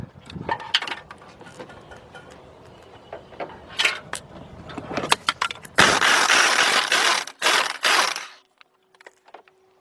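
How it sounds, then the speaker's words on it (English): A wrench working the main nut on the front shock of a 2001 Ford Ranger: irregular metallic clicks and ratcheting bursts, then a sustained loud grinding rasp near the end before it falls quiet. "Now let's get the main nut off."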